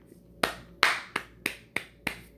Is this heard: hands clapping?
yes